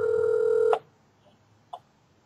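A telephone ring tone sounds steadily while a call is placed, then cuts off abruptly, followed by near silence and a faint short click or blip.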